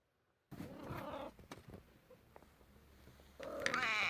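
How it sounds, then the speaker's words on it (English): A house cat meowing insistently for food, a drawn-out cry near the start and another rising call at the end, fairly close and faint with a quiet room between. "note the cat still demands food"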